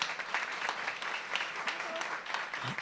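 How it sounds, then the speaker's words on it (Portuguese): Congress audience applauding for a research colleague in a large hall, a steady mid-level patter of many hands clapping at a moderate distance, continuous across the whole stretch. "e palmas para a Luana, por favor"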